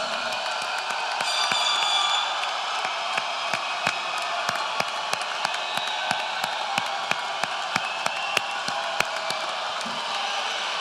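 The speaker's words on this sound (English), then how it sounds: "Give them a round of applause." Large graduation audience at the Sylvania Southview High School class of 2026 commencement gives sustained applause, a broad, even wash of clapping with scattered sharp individual claps and faint cheering, heard from a distance.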